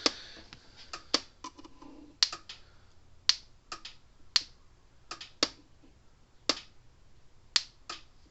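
A repaired Red Snap'r electric fence charger pulses with sharp, close snapping ticks at an irregular, roughly one-per-second rhythm over faint background hiss. No one speaks.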